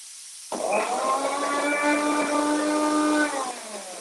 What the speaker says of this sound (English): So then I'm going to put in my blender.